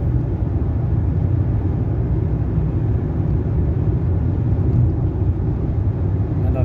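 A fully modified BMW 5 Series with a large turbo intercooler driving, heard as a steady, loud low rumble of engine and road noise filling the whole stretch without talk.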